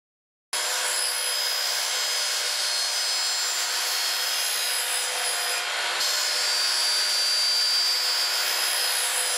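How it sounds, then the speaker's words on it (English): A 2 1/4 inch hole saw bores through wood in a steady, unbroken grinding whine after a short silent lead-in, close and fairly loud, its pitch edging slightly as the cut progresses, with no talking. "Starting the hole from one side, and then to reduce tear out, finishing the hole from the other side."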